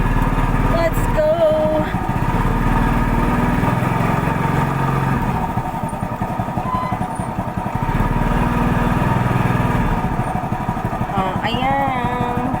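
A tricycle motorcycle engine runs steadily and loudly up close, with a throbbing mid-range drone that holds for the whole stretch; brief voices come and go over it.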